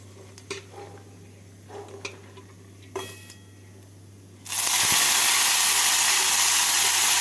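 Squeezed radish greens dropped into hot oil tempered with two dried red chillies and black cumin, a sudden loud sizzling hiss that bursts in after a few light clinks and stays steady.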